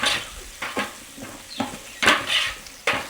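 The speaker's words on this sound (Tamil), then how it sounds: "இப்போ வந்து நாங்கள் வெங்காயத்தை இந்த எண்ணெயில் கொஞ்சம் வதக்க விடணும்." Onions sauté in oil in a pan while a spatula scrapes and stirs in several sharp bursts over a low sizzle, close and fairly loud.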